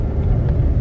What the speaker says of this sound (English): We in a car.